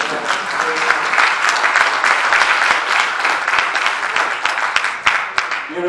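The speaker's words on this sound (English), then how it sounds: "Let's get a little hand clap." A church congregation at an Easter Sunday service claps their hands, a loud, close burst of many overlapping claps with sharp individual hits, continuous for several seconds.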